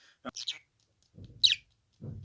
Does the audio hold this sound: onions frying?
no